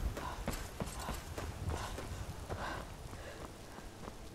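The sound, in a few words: horse hooves clip-clop in video game Skyrim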